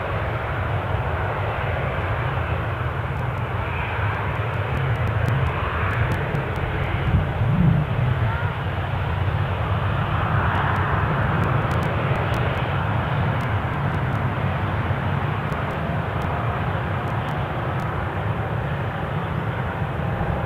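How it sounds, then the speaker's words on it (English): Loganair Embraer 145 jet departing Newcastle airport roars as a steady, distant engine rumble that holds for about twenty seconds without fading, with no voices over it. "Keeping an eye out for the Loganair departure in Embraer 145."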